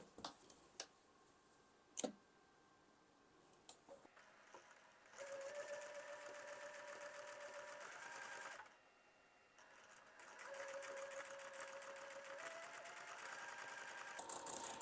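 A sewing machine stitches quarter-inch seams on a quilt block, starting after a few soft clicks, then running in two long steady buzzing passes separated by a short pause, close and quiet.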